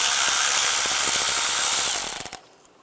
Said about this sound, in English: Using a 10 millimeter socket, take this bolt out